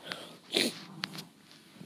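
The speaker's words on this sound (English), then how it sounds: "Dog! Shut up!" A dog snorts and huffs in the background, a few scattered short bursts with one louder breathy snort, heard alone without speech.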